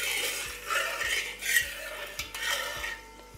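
A utensil stirs dry red chillies and whole black peppercorns in hot ghee in a pan, with repeated scraping strokes and light clinks over a soft frying hiss.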